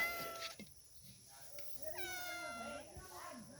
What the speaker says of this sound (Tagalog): Pusa pala yung nakatira mga idol.